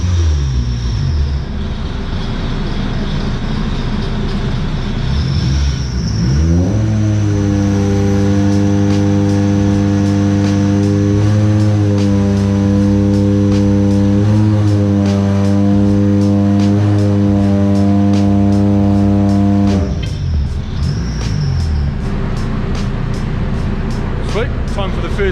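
A Honda K24 engine in a DC5 RSX runs a dyno pull, revving steadily upward through a long, loud rising wail with clear harmonics, then dropping back to idle near the end.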